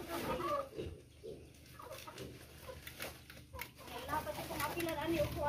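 Backyard chickens cluck and murmur softly in a mixed, faint flock chatter, with people talking over them.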